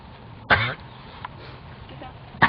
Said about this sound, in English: Maybe I should just do the round pen coughing so they can see the cough.